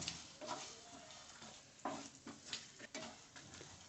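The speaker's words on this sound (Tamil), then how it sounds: "அடுத்தது சோம்பு, ஜீரகம், பட்டை, கிராம்பு சேர்த்துட்டு இப்போ நல்லா வறுத்துக்கலாம்" Fennel, cumin, cinnamon and cloves dry-roast in a pan, with quiet scraping stirs and light crackles recurring every half second or so, faint and close.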